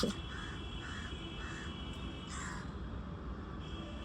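A crow caws outdoors, a run of four evenly spaced harsh calls followed by a louder fifth, at moderate distance over a steady rustling background.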